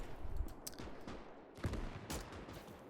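Rifle fire crackles through a WW2 game battle at a river crossing between Russian and German troops, several sharp reports scattered over a few seconds against a constant rumble of combat noise.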